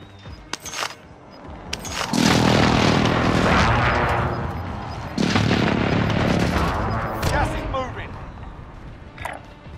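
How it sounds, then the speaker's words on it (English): Explosions from a precision airstrike in Call of Duty rumble in two long, loud bursts of blast and debris, with gunfire crackling around them and a voice talking through part of it. "Be advised, friendly precision airstrike inbound."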